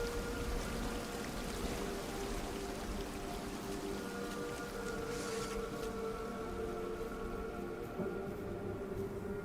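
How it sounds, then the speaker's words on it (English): A waterfall in the video game Tainted Grail: Fall of Avalon gives a constant rushing, splashing wash of water under soft music, steady and moderately loud throughout. "a waterfall."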